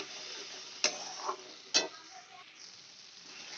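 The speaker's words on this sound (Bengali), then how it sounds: "কাজু আর কাঁচা লঙ্কার পেস্টটা এবার আমি দিয়ে দেব।" Cashew and green chilli paste fries in a pan with a soft steady sizzle, broken by two sharp scraping strokes of stirring.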